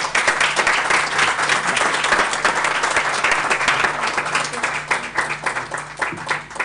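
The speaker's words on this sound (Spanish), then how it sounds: "Que el aplauso esté dirigido también a Javier Contese por su muy generoso esfuerzo." A lecture-hall audience applauds steadily throughout, a dense, loud wash of many hands clapping at a sustained level with no talk over it.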